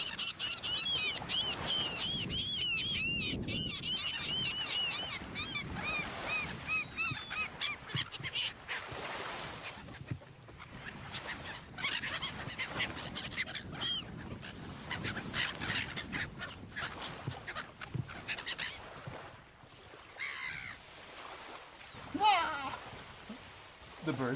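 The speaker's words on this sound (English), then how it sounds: "There's so many seagulls around me, chat. It's hard to talk." Many seagulls call in a loud, overlapping chorus of squawks and cries close by at a waterfront with waves, while a person talks over them.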